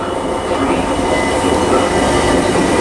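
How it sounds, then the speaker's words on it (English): A Great Western Railway Class 802 train, units 802005 and 802006, runs into Bristol Parkway station on the Cardiff Central to London Paddington service with a steady, loud, close rumble and rail noise throughout. "approaching now is the 1433 Great Western Railway service to London Paddington from Cardiff Central"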